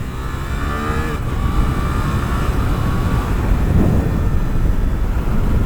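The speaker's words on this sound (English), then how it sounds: "Maybe I should just let the engine rev out more." Suzuki GSX-8R motorcycle engine revving on the road, a loud steady drone with a rising harmonic whine, heavily mixed with wind buffeting throughout.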